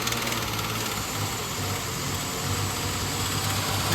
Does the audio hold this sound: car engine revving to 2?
yes